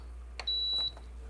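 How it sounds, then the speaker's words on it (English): A single steady electronic beep rings out for about half a second from a nearby Breville Barista Express espresso machine at power-on, with a soft click just before it. "You're gonna hit the power button, and then you're gonna hear the beep noise."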